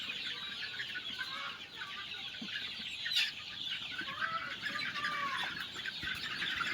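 Several hens cluck and murmur nearby while feeding, with a few higher drawn-out calls over a constant outdoor rustle.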